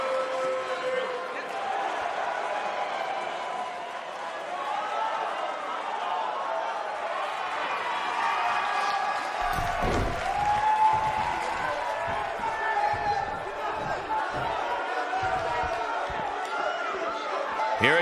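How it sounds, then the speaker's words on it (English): Wrestling arena crowd in WWE 2K19 roaring continuously, a dense wash of cheering and chatter with thumps and impacts from the ring, under a commentator's voice. "boy, is this crowd fired up"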